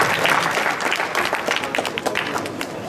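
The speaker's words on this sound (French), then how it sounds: "Sous applaudissements" An audience at a real estate trade fair in Neuchâtel applauds steadily, a dense, even patter of many hands clapping throughout, fairly close and with no voices on top.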